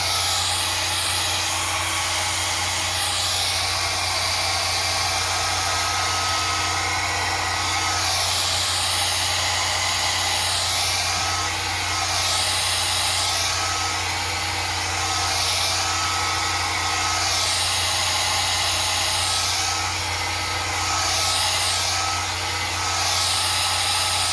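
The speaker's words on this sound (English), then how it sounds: "Take your blow dryer, blow dry it up towards like this." A hair blow dryer runs continuously at close range while drying a wig, a steady high-pitched whir with a low hum underneath and slight wavering as it moves.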